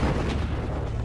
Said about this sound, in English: the deadly missile strikes Bismarck's port side on her stern. The violent explosion tears a huge hole in the hull.